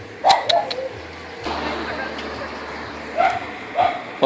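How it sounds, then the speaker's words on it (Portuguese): A dog barks nearby in short bursts: two quick barks, a pause, then two more. "esse cachorro latindo pra você aí"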